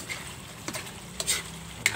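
Sisig sizzles steadily in a frying pan as it is stirred, with a few sharp utensil scrapes and clinks against the pan over the constant frying hiss.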